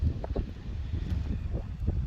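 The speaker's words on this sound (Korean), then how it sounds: "이게 이렇게 강풍이 거의 오늘 뭐 태풍급이라고 하는데" A strong, typhoon-like gust blows across a pepper field covered with non-woven fabric, giving continuous low buffeting and rumbling with soft flapping, close to the microphone.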